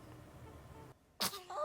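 A single short, sharp sneeze, close and abrupt, bursts out after a moment of quiet in a home, with a bit of breathy voice right after it.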